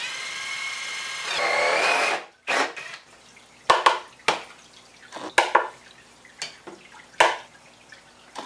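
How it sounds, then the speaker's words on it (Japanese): Power drill boring a hole for a cord, a steady close whir for about two seconds, followed by several short scattered knocks and clatters. "そしたらあとはコード用の穴を開けていきます"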